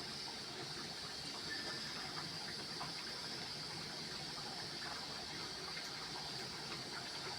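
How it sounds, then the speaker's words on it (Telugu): Water pours steadily into a pot of raw mango curry, a continuous close gushing stream that lasts several seconds with no voices. "వాటర్ యాడ్ చేసేస్తున్నాను బాగా ఉడకాలి"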